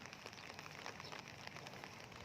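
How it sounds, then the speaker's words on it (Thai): Steady, faint rain patters on a surface, a continuous soft hiss with scattered tiny drops and no voices. "ฝนตกฝนตก"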